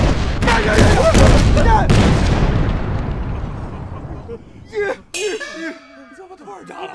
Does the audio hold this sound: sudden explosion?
yes